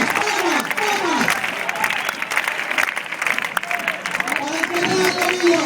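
A crowd claps along at a flamenco-style exhibition, a steady clatter of hand claps with shouted voices and cheering over it throughout.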